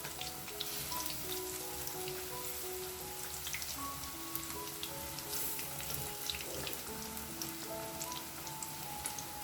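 Bread pieces sizzle and crackle steadily in hot oil in a pan over a low flame, a dense continuous frying hiss with scattered pops, close and fairly loud throughout with no talking.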